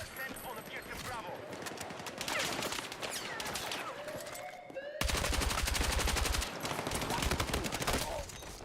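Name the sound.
gunshots from the video game Battlefield 6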